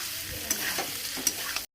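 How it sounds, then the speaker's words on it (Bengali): Meat curry with potatoes and Malabar spinach being sautéed in a pan, a close steady sizzle with two sharp spatula scrapes, ending abruptly. "সাথে আলু আর পুঁই শাকটা সুন্দরভাবে কষানো হয়ে গেছে।"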